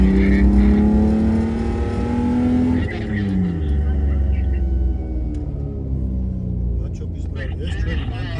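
Several off-road cars set off on the Chili–Didgori–Manglisi route, their engines droning and revving loudly nearby with a steady, harmonic tone whose pitch shifts as they pull away; the engine noise continues throughout.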